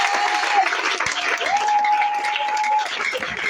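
A church congregation applauds with dense, sustained clapping during an evening worship service, accompanied by a faint sustained tone.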